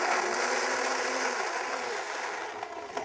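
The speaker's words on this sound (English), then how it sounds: "I'm going to make a little noise with the blender" A kitchen blender whirs steadily while blending raw corn chowder with water, a dense, continuous motor roar close by with no talking.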